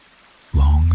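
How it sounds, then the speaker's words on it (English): Rain falls steadily, starting suddenly and then holding as a dense, close wash of noise. "The rain continues behind them"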